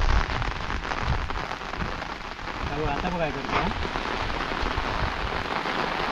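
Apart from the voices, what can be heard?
rain falling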